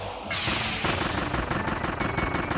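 In Kirby and the Forgotten Land, a sudden heavy blast of a powerful shot gives way to a fast, rhythmic stream of repeated shots, loud and close, with no talking.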